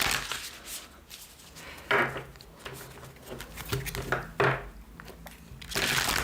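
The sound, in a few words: shuffling a deck of tarot cards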